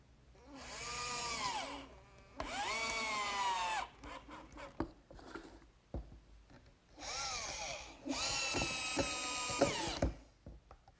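A power drill drives screws into a wooden workbench top in four bursts, each rising whine lasting a second or two, with knocks and handling clatter between.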